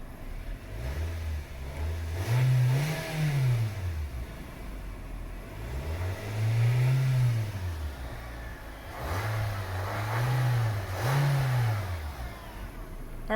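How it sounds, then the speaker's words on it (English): A 2020 Nissan Versa engine is revved from idle several times close by, each rev swelling up and falling back in smooth arcs, with a brief double rev at the start and end. "we're going to rev the car just a little bit"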